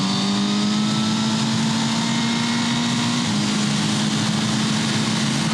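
Car engine running while the driver warms up the tires behind a slow vehicle, a steady droning tone that climbs slightly in pitch and then levels off, heard from inside the car over constant road noise.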